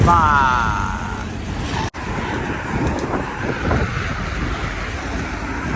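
Strong wind blowing outdoors, a loud rushing buffeting roar battering the microphone, steady with gusty swells and a brief dropout partway through.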